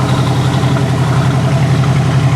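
A Ford truck engine idles through a newly made tailpipe, a steady low throbbing rumble with an even pulsing beat, close and loud, with no voices.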